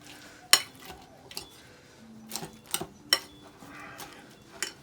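Spoon and bowl clatter sharply a few times while stuffing is stirred with toasted croutons, the scraping and clinking sparse and close.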